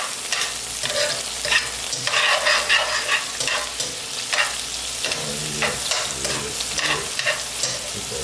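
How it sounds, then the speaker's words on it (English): Garlic sizzles and crackles in a pan with lemon while a utensil stirs and scrapes through it, a steady close frying hiss with irregular scraping strokes and no talking. "Mix it up, get that garlic rotating."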